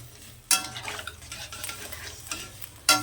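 Water goes into a hot pan of taro and tangra fish curry, giving a sharp hissing burst at the start and another near the end, with softer sizzling and stirring between, close and without speech.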